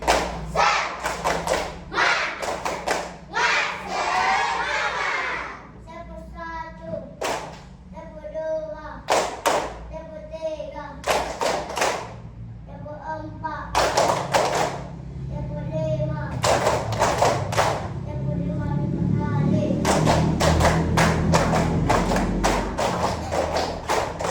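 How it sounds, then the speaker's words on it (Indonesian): Children perform the tepuk semangat, a rhythmic clapping chant, in a classroom lesson, with repeated bursts of claps and thumps interleaved with chanted voices over about twenty seconds, growing busier and louder toward the end. "kita tepuk semangat dulu"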